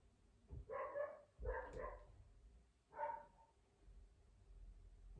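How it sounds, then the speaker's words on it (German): A female dog barks indoors a few rooms away, three muffled barks in two quick bursts and a later single one, faint against a quiet room. "da bellt auch schon meine Hündin dazu"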